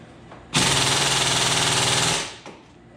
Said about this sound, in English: The nice part about those air hammers is they make a little noise